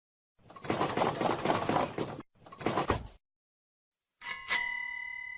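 Bicycle bell in a kids' educational video game: after a few spoken words and a pause, a bright metallic ring sounds, struck twice in quick succession, then left to ring out clearly and alone.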